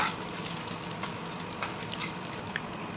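Vegetable pakora fritters frying in hot oil, a steady close crackling sizzle with scattered bright pops running throughout, no voices.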